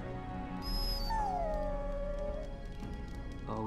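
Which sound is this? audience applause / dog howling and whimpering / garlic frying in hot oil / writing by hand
dog howling and whimpering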